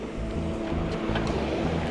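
Small motorbike engine droning steadily while riding across soft beach sand, close and continuous with a low throbbing hum and broadband wind-like noise, occasionally bogging down.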